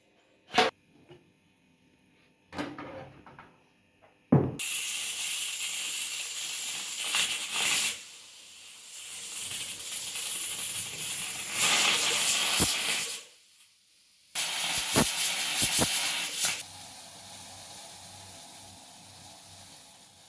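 A pressure cooker cooking ven pongal lets off loud, sustained steam hissing in bursts, broken by short pauses and a few sharp clicks, with no voices.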